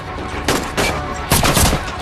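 Gunfire in an action film scene of men in camouflage shooting at a blood-soaked armed man on a bridge, two loud, dense bursts of rapid shots over a constant noisy battle background.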